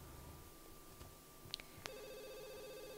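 A telephone rings in The Sims 2 life-simulation game, a couple of short electronic ring tones over a steady hum of game music and ambience, no talking.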